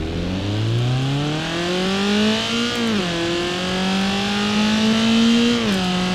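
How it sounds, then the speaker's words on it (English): A race-build BMW E30 in the BeamNG Drive game revs hard and loud on its own. The pitch climbs steadily, drops sharply twice as it shifts or lifts, then climbs again. "As you can hear, the car just sounds absolutely incredible. It sounds a lot more throaty, it revs higher, because obviously this is a race build."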